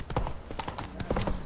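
Horse hooves in The Witcher 3, a short burst of clopping steps in quick uneven rhythm, fairly faint.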